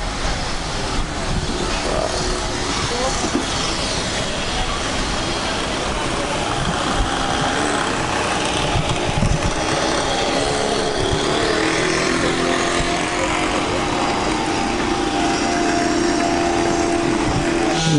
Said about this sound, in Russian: под звук отбойного молотка и бензопилы